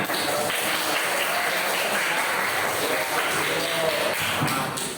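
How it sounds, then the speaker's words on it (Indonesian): Applause in a fifth-grade classroom during a lesson on building a simple lung model, a dense, steady patter of many small hands clapping for the full length at moderate loudness. "Tepuk tangan."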